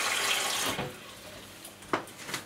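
Tap water runs in a steady broadband rush for about three quarters of a second to fill a blender jug, then cuts off, leaving faint handling clinks and a brief splash near the end.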